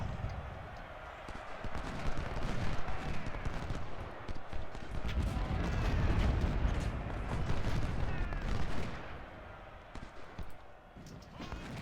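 Musket volleys and scattered gunfire from a Civil War battle in a strategy video game, crackling in repeated bursts at a moderate distance over a continuous rumbling din, with a voice talking faintly in places.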